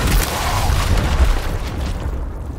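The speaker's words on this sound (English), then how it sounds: "Frag going out." A frag grenade detonates in the video game Gears Tactics, a loud, deep, rumbling boom that fills the whole stretch with sustained low roar and debris noise, close and heavy, fading only slightly at the end.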